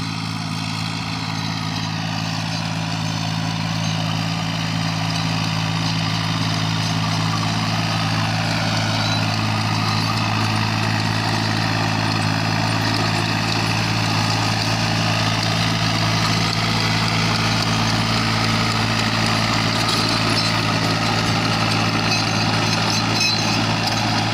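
Steady idling drone of a John Deere 3036 mini tractor engine running in a farm field, a loud continuous low hum with a constant pitch and no pauses throughout.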